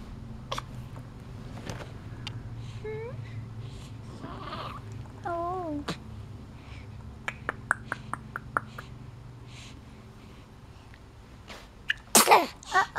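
A newborn baby girl at about three and a half weeks old sneezes once, sharp and close, near the end, after quiet soft whimpers and small fussy sounds in a calm room.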